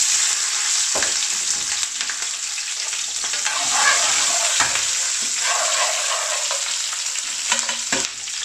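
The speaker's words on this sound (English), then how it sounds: "I'm going to fry these onions" Onions fry in hot oil for a chicken balti, giving a steady, loud bright sizzle, with stirring scrapes and clinks at intervals throughout.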